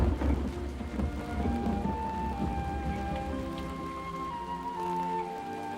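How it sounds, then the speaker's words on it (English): A steady, heavy downpour of rain roars without a break, with faint sustained tones beneath it and no voices. "It has been raining solidly for a week."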